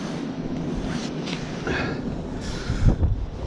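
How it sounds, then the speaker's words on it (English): Waves roll onto a windy shore amid turbulent tidal water, a broad rushing surf with gusty wind buffeting the microphone and a louder surge near the end, no talk. "Oh, look, the waves coming in."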